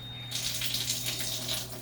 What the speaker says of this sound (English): and now acidic water is coming out of here, and alkaline water is coming out of here.